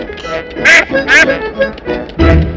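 Cartoon duck from Peppa Pig quacking in bright, nasal bursts, three loud quacks spaced apart with a voice talking in between.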